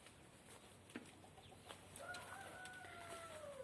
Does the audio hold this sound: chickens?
yes